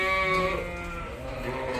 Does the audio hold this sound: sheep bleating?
yes